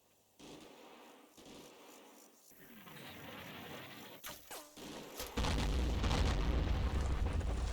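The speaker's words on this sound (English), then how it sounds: "Another barrage on my southern overwatch position" Artillery barrage striking a position in the WWII Monte Cassino battle of the Combat Mission game: heavy rumbling booms and blasts that swell into a continuous loud roar of explosions.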